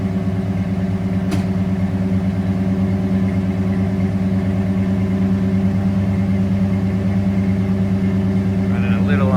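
A 1969 Mercury Cyclone fastback's CJ428 V8 with a Holley carburetor runs on choke, idling steady and slightly rich, a loud close continuous rumble with a brief click near the start.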